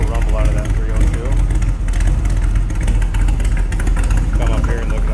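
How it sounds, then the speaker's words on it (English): A 1966 Shelby Cobra replica with a 302 V8 idles low and steady, its deep rumble loud and continuous and close up, without pause throughout. "I'm going to step back so you can hear this on low idle. Listen to that. Beautiful rumble out of that 302."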